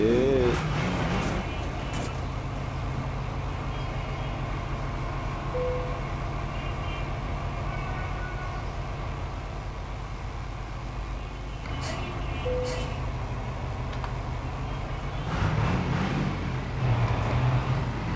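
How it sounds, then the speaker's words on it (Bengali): Engine drone of a vehicle driven in the GMT BD MAP V3 driving game on a Dhaka to Kushtia route, a steady low rumble running the whole time with brief tonal beeps and a few clunks near the end. "এই গাড়ির শব্দ ইঞ্জিনের শব্দ কিন্তু চেঞ্জ হয়েছে"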